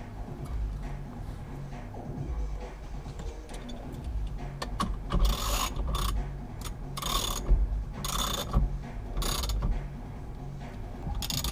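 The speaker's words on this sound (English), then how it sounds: "Let's get the puller on there." A steering wheel puller working on an aluminum-based steering wheel of an 8th-generation Impala, making a series of close, sharp ratcheting clicks in uneven bursts over a low mechanical rumble, with no talking.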